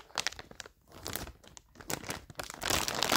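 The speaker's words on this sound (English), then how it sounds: "So let's start the unboxing. Wait, do I need scissors? I don't know. How can I open it?" Plastic packaging around a scented Squishmallow crinkles and crunches up close in irregular bursts with short pauses, growing denser and louder toward the end; no talking.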